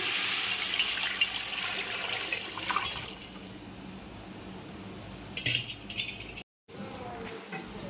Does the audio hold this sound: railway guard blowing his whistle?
no